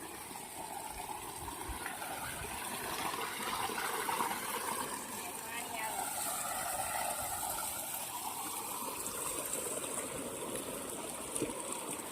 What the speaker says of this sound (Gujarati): ભાઈ પાણી આવે છે બરાબર